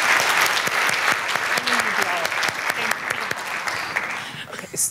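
A roomful of people claps for several seconds at an inclusion-themed talk, the crisp, dense applause close by with a voice speaking over it before it fades out.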